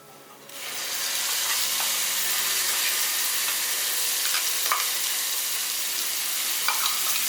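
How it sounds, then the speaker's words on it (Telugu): Ground chukka kura (sorrel leaf) chutney dropped into a hot tempering in the pan sets off a loud, steady sizzle and frying hiss, starting suddenly and holding for several seconds with a few sharp crackles, and no one talking. "ఇప్పుడు దీంట్లోకి ముందుగా గ్రైండ్ చేసి పెట్టుకున్న పచ్చడిని వేసుకోవాలి"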